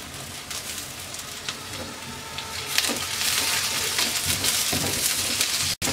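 Chopped green chilies and curry leaves fry in a pan with ginger and onion, giving a steady close sizzle and crackle that holds throughout and grows slightly louder partway, with no talking.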